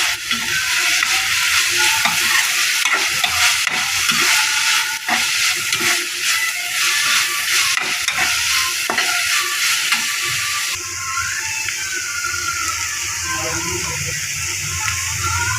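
Spices with cumin and ginger paste fry in a pan with a loud, continuous sizzle, mixed with rapid scraping and clattering strokes of stirring. The frying eases slightly near the end.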